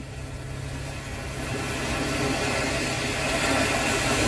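Ocean waves from the sounds of nature feature of a 2021 Hyundai Palisade 3.8 Luxury, played through the cabin speakers as a steady, broadband wash of surf that swells slightly louder partway through.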